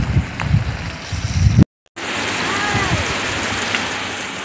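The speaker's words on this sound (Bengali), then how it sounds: "দেখো মুষলধারে বৃষ্টি পড়ছে এখানে" Heavy rain pouring on a road at Lepchajagat, a dense steady roar of rainfall close by, briefly cut by a moment of silence before resuming.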